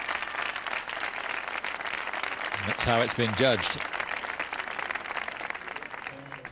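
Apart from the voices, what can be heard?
prolonged audience applause for the group tango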